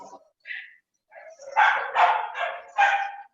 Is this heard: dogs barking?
yes